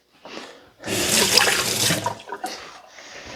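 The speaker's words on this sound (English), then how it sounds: "Let me rinse my knife." A kitchen tap gushes briefly in short spurts, then a stronger steady run over a knife being rinsed, close and loud, with no talking.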